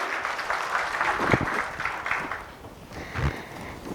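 Audience applause after a talk at a conference, a moderate wash of clapping that swells and eases, with a couple of louder bumps, heard fairly close.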